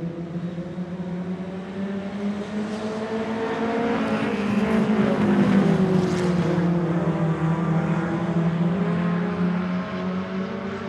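Race cars in a super short track racing series qualifier roar past together, a loud continuous engine drone with rising and falling pitch that swells mid-run as the pack nears, then eases slightly.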